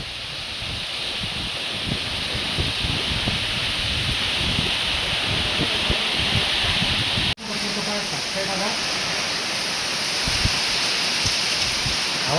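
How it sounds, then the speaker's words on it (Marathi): Heavy rain driven by strong wind roars steadily nearby, gusts and rustling building through the stretch, with a sudden brief cut midway before the downpour continues; a voice is faintly mixed in. "पाणी बी लय चालू आहे ना हवा बी लय"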